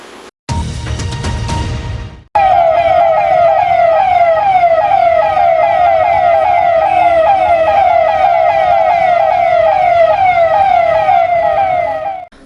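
A civic siren sounded during a street campaign urging people to wear masks, rising after a brief burst of other noise and then wailing loudly and steadily in repeating sweeps until it cuts off near the end.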